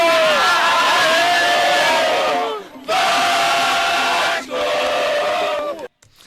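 Vasco da Gama football fans jeering and chanting in unison inside the Maracanã stadium, a loud, massed crowd roar in sustained chanted phrases broken by brief pauses.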